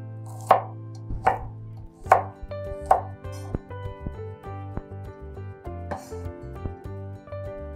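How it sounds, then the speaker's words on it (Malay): Shallots and garlic are coarsely chopped with a knife on a cutting board, a run of sharp, irregular thuds close up, about a dozen strikes at an uneven rhythm with no talk. "Bawang merah dan bawang putih, cincang kasar juga sebab nanti senang nak tumbuk."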